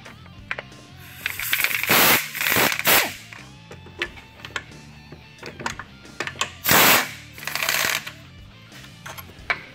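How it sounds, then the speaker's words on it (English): A ratchet wrench on 13 millimeter oil pan and head bolts of a 2010 Camaro LS3/L99 gives repeated bursts of sharp, close clicking and rattling, with brief pauses between the bursts. "We're going to go ahead and start removing the two oil pan bolts here, these two 13 millimeters and these two 13 millimeter head bolts."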